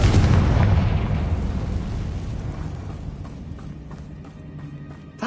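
Confringo blasting spell in a video game: a loud, deep explosive boom at the start whose rumble slowly decays over several seconds, followed by faint scattered debris clatter.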